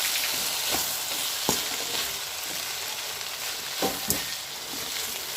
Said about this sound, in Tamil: உப்பு சேர்த்துட்டு இப்போ கிண்டிக்கிறோம்.